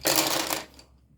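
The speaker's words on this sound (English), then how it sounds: "And now all the colored pencils just fell out all over the floor." Colored pencils spill onto a floor in a quick, bright clatter of small wooden and plastic pieces lasting under a second, close and fairly loud, then fading to quiet.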